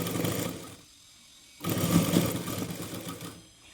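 A sewing machine stitches a fabric sleeve onto a garment, running in two bursts of steady, rapid mechanical chatter separated by a brief quiet pause, close and loud with no talking.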